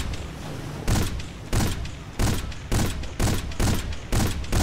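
Repeated loud bursts of gunfire from Battlefield Bad Company 2, about eight heavy blasts in an uneven rhythm over a steady rumble of battle noise, with no talking.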